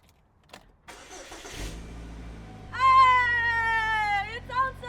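A repaired car engine cranks and catches, then settles into running with a loud high whine over the idle that wavers before dropping back. Quiet voices come before the start.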